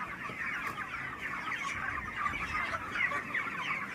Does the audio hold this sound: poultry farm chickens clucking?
yes